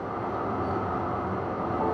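A MAX light rail train rumbles steadily along the tracks, a continuous close, moderately loud roll with no voices.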